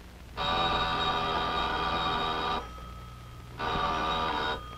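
An old-fashioned telephone bell rings in two long bursts separated by a brief pause, a loud buzzing ring used as a sound effect on a 1950 broadcast show.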